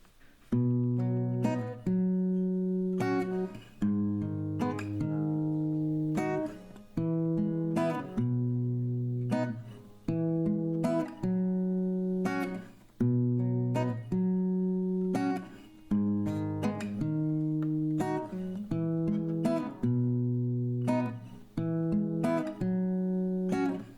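Acoustic guitar chords strummed in a steady, repeating rhythm, each strum ringing briefly before the next, played alone at a moderate volume.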